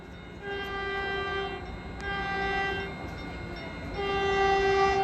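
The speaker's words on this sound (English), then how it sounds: "here comes our train to South San Francisco." A Caltrain commuter train arriving at a station blows its multi-tone horn in several loud, sustained blasts over a low rumble of the approaching train.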